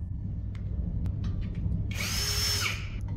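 A power drill drives screws while a BMS board is fitted during installation of a 15 kWh battery storage unit: one short whirring run over low steady background hum, with faint clicks before it.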